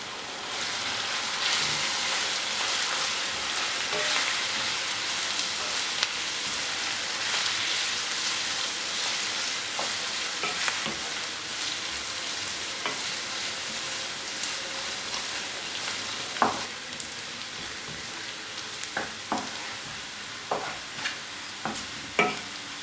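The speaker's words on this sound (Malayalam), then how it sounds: "നമുക്കിതെല്ലാം കൂടെ ചുവക്കെ വറുത്തെടുക്കാം" Ginger, shallots, green chili and grated coconut frying in oil for Kerala inchi curry, a steady close sizzle with scraping stir strokes and occasional sharp clicks of a spoon against the pan, no voices.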